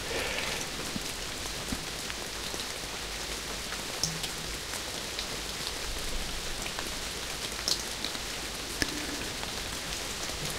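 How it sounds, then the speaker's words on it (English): Steady rain falls in a forest in the video game Castle Meister, a dense, even hiss of drops on foliage that runs unbroken throughout, with a few slightly sharper drips here and there. "Now the next scene happens where in a rainy forest."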